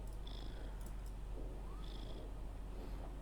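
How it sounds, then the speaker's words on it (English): A cat purrs close by in a steady low rumble that runs throughout, with faint chirps and background hum underneath. "Listen to that purr. Listen to that purr."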